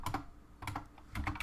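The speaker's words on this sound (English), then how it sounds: "you can find the available commands by typing virtual texture reference set" Command being typed on a computer keyboard at a terminal: three quick bursts of crisp key clicks, close and fairly loud, with short pauses between them.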